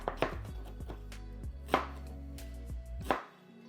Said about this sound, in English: Now we're gonna go ahead and slice up our red onion.